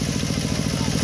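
Engine of a watering machine pumping water through a rain hose on a dry watermelon field, a loud, steady, close-up rumbling drone with a rapid pulsing beat.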